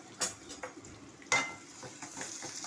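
Curry leaves dropped into hot oil for a Tamil home-style dish, with quiet crackling and two sharp spitting bursts, then a low ongoing sizzle.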